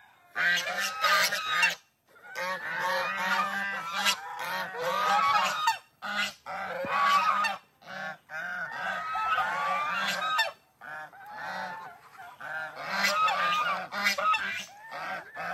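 Loud, repeated goose honking from a flock nearby, with bursts of overlapping calls and brief pauses between them.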